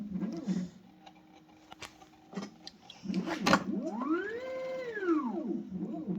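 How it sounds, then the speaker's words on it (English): A custom-modded Matrix bottle filler machine runs with whirring motor tones that rise and fall in pitch, along with clicks and mechanical knocks, heard nearby at moderate volume. "Just kind of running the machine here to show you what it looks like."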